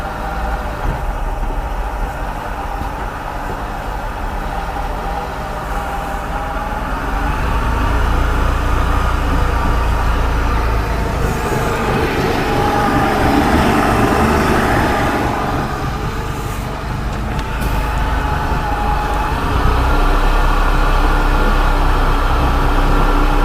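An outboard motor runs in a test barrel of water, a loud, continuous engine drone with a churning wash that builds as revs climb toward about 2,000 RPM, with no one speaking.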